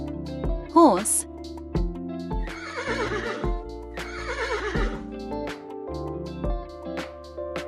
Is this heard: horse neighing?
yes